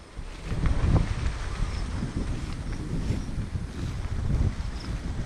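Monsoon wind gusts across a cornfield, roaring and buffeting the microphone in steady, rising and falling surges, with no voices.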